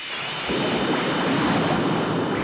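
A rumbling, crackling lightning strike effect from a 1990s anime battle, a dense roar that swells after a moment and holds loud and sustained to the end.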